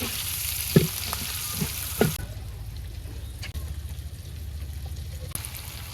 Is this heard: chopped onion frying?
yes